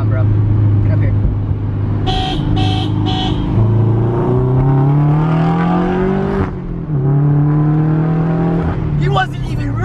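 Street racing cars on a Texas street rev their engines, pitch climbing in long sweeps, with several sharp honks of a car horn early on and voices talking over the loud engine noise.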